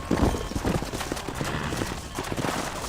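Horse hooves in Red Dead Redemption clip-clop in a quick, uneven rhythm nearby, with a few heavier thuds at the start.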